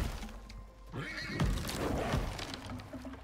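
Horses neigh in the survival video game Icarus, a loud, close whinny that rises and falls for about three seconds over a low rumbling game background.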